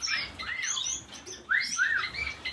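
Pet birds in a home chirp and tweet close by, a few quick rising-and-falling calls in two short bursts, clear over a quiet room.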